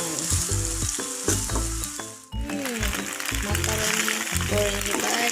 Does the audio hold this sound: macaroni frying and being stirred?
yes